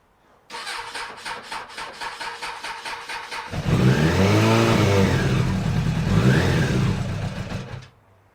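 A Suzuki Bandit 600 motorcycle with an old battery cranks with a rapid rhythmic starter churn for about three seconds, then fires and settles into a loud, close, steady idle with a couple of light throttle swells before cutting off.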